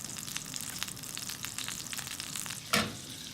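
Steak searing in a hot pan gives a steady, close crackling sizzle with rapid popping, then a sudden louder hiss burst near the end as the meat is flipped.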